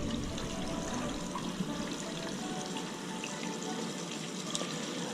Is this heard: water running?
yes